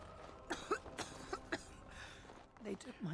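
Coughs from a sick character in Dragon Age: Origins come in several short bursts, rough and throaty, over a quiet game background with faint murmuring.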